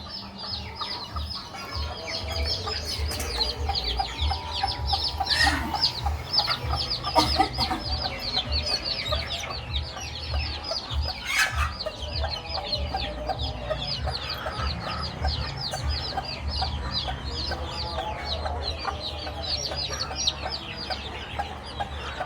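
A desi hen clucks among her newly hatched chicks during a hot summer, low repeated clucks close by under a constant thin chorus of high chick peeps, with occasional louder calls.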